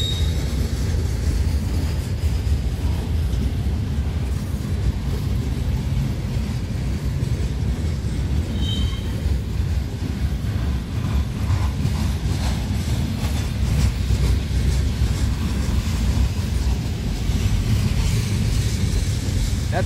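A freight train rolls past steadily in rural Ohio for the whole stretch, a loud continuous rumble of wheels and cars with a brief faint squeal partway through and no talking.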